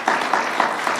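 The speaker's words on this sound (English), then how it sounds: "Great, that's worth applause." Applause from a crowd at a community growth celebration in Western Massachusetts, a brief dense burst of clapping.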